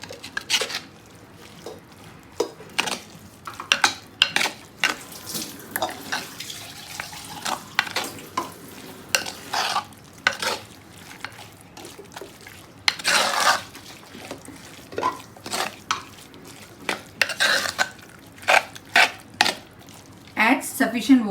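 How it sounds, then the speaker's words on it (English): Marinated prawns are mixed with ground coconut paste in a pan for a raw mango curry, with continuous close spoon scraping and wet stirring strokes in an uneven rhythm. "Coconut paste is mixed with the marinated prawns."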